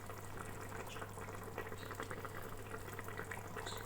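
Mutton shorba boiling in a pot, a steady, quiet bubbling and simmering with a low constant hum underneath, and no talk.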